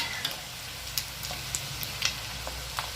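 Steady close sizzling and crackling of pork intestines frying in hot oil, with scattered small pops and ticks over a constant hiss.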